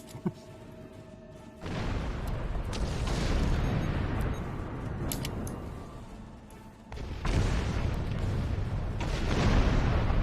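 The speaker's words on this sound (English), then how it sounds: "Explosions!" Explosions in the Star Trek Online video game during a Borg attack: deep rumbling blasts that swell, subside and surge again, with sharp crackling impacts scattered throughout.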